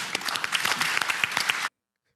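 A studio audience breaks into dense, steady applause, many hands clapping at close range for under two seconds before cutting off abruptly into silence.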